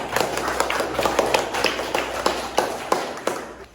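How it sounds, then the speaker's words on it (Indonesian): Classroom clapping for a student during a physics lesson, a small group of pupils applauding with uneven, distinct claps at moderate volume, close by. "Jadi tepuk tangan dulu untuk Mbak."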